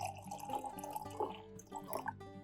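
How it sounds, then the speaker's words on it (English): Water is poured into a glass jar to a depth of about five centimeters, giving a soft trickling and filling sound with rising tone, faint and close. "Pour about 5 centimeters of water into the container."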